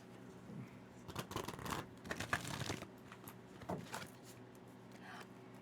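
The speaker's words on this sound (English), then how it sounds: "Shuffled, fanned, cut the deck 3 times, I think, or several times." A deck of playing cards shuffled in quick riffling bursts, soft and close, with short gaps between rustling flurries against a quiet room.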